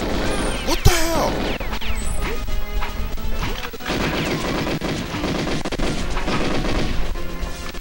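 P90 fire in the GoldenEye video game rattles in dense, rapid bursts amid crashing game effects and other weapon sounds, loud and continuous across the whole stretch.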